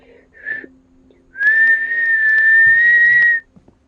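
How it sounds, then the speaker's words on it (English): A person whistles a short opening note, then a long sustained, slightly wavering whistled tone for about two seconds, fairly loud and close, over a faint low background hum. "Ooh, whistle. I can't whistle."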